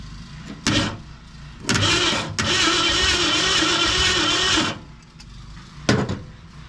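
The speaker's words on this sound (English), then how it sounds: "that starter is loud" The starter of a 1964 Ford Fairlane that had sat in a barn for more than 25 years cranks the engine in a loud, close grinding whir for about three seconds. Shorter clicks and cranking bursts come before and after it.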